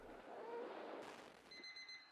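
A video game alarm clock in Alt-Frequencies breaks into a bright, rapid electronic ringing partway through, following a muffled rumble. It is fairly faint and brief, with no speech.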